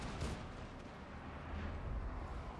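Dwarf organ guns firing in Total War: Warhammer 2, a dense rumbling barrage of artillery blasts rolling together into a continuous roar with no speech.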